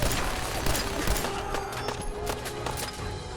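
A raider fires a minigun in Fallout 4, unleashing a dense, continuous rattle of rapid shots mixed with sharp cracks and impacts, loud throughout.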